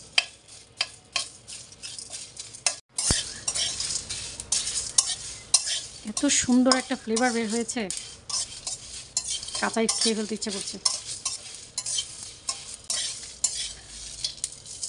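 Whole spices on low heat sizzle softly while a spoon scrapes and stirs them in a pan in steady, repeated clattering strokes, close up, with a voice talking partway through.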